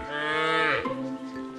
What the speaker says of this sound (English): I don't know what to do with a herd of cattle.